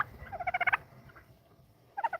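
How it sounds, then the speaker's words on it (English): Free-range farm turkeys gobbling in two close, loud bursts of rapid warbling calls, separated by a quiet pause. "Turkeys like to talk trash."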